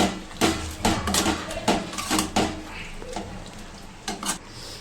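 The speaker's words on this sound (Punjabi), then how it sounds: "ਹੁਣ ਅਸੀਂ ਪਾਵਾਂਗੇ ਕਸਤੂਰੀ ਮੇਥੀ ਅਸੀਂ ਮਿਕਸ ਕਰ ਲਾਂਗੇ" Someone stirs kasuri methi into an aloo soyabean curry in a pan, and a spoon scrapes and clinks against the metal in a string of close, irregular strokes over a faint sizzle.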